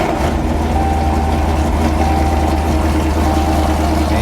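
The engine of a 2016 Dodge Challenger idles with the AC running on low, a loud, steady, deep rumble with a constant throb, close by and uninterrupted for the whole stretch.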